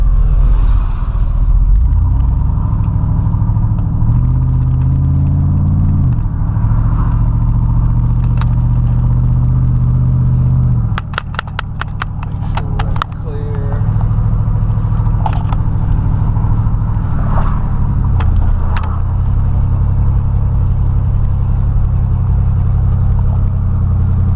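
A 2003 Chevrolet Tahoe Z-71, just back from a steering gear box repair, rolls down the road with a loud steady low engine rumble that rises and eases as it shifts and accelerates.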